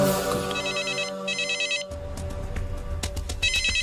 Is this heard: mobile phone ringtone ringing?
yes